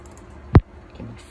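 A single sharp click from a Logitech G402 gaming mouse button, close and distinct against a quiet background, followed by a faint softer sound.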